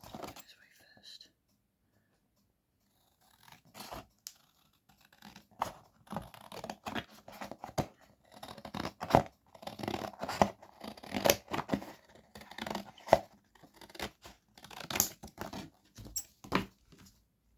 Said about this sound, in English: And then I'll just cut off where it needs to be cut.